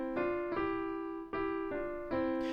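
Two melodies in parallel motion, the same shape starting from different scale points, are played as sustained tonal notes in a short four-note sequence with clear attacks, moderately quiet and without talk.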